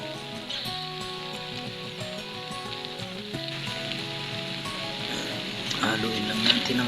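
Aromatics sizzle steadily in a pan for a Filipino green papaya and snail dish, a broad hiss running under background music with no one talking.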